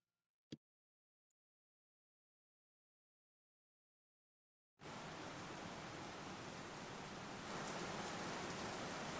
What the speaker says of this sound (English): next day you step outside into the rainy Lavassan streets.